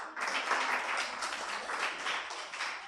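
A gathered audience at a public engagement event applauds themselves, a fairly faint but steady round of many hands clapping with a slightly pulsing rhythm, heard from a distance with no speech over it.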